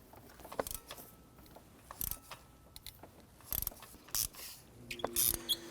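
A ratchet and 5/8 socket on an extension work loose a spark plug deep in the plug tube of a 2005-2021 Nissan Frontier 4.0L V6, giving scattered metallic clicks and short ratcheting bursts with quiet gaps between.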